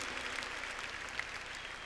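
A church congregation gives steady applause that fills the room, moderately loud and sustained, with no talking over it.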